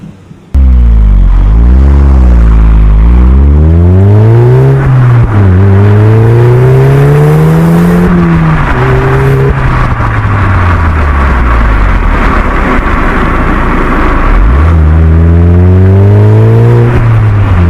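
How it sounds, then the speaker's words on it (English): An Audi TTS engine cold-starts, cranking and catching, then roars loudly as it revs up and down, settles into a rough idle, and revs again near the end. "I'm just going to do a cold start quickly, and so you guys can hear it."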